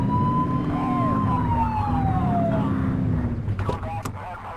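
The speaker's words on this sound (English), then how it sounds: "Get on their tail and flip the siren." A police car siren in the video game The Precinct wails loudly with a steady tone that sweeps down, over an engine drone, with a brief burst of noise near the end.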